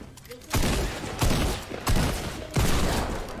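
Heavy bursts of gunfire ring out in a shooter video game, four loud close volleys spaced roughly every half second to second, each a sharp crack trailing into rumble.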